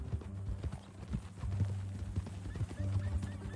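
Horse hooves clip-clopping in the video game Red Dead Redemption 2 at Beecher's Hope ranch, a steady rhythmic clatter under low rumbling background with a faint whinny.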